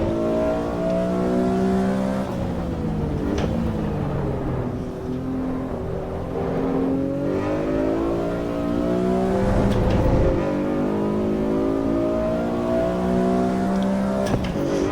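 Simulated race car engine in the Assetto Corsa EVO racing sim, running steadily through several laps with rising and falling revs through gear changes and corners, loud and continuous with no talking.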